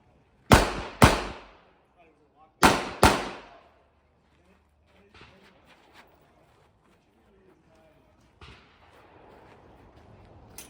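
Pistol shots ring out at an outdoor IDPA shooting match, two sharp pairs of loud close cracks with short echoing tails, followed by quieter clattering handling sounds and low background noise.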